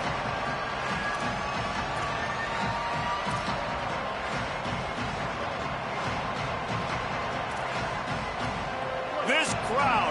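A loud football stadium crowd roars on third down in an Ole Miss vs Florida game, a continuous wall of cheering with a broadcast voice talking over it.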